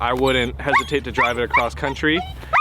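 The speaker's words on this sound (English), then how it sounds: "Sorry about the dog noise." Dogs barking and yipping in the background of a conversation about a Toyota 4Runner and Tacoma, the barks intermittent and mid-distance, partly masked by someone talking over them throughout.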